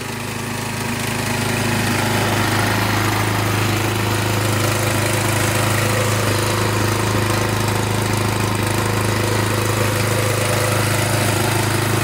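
A small engine idles steadily after restoration, with a continuous low, even rumble that runs loud and close throughout with no talking.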